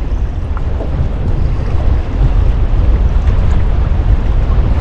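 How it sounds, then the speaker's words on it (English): Strong wind gusting across open water from a fishing boat, a loud continuous rumbling buffet against the microphone with waves slapping underneath, no talk. "The wind went from nothing to about 15 miles an hour just instant."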